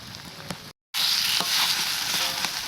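A fish fries on leaves in a pan with a steady, bright hiss of hot oil and faint stirring ticks. The sound drops out briefly for a moment and then returns.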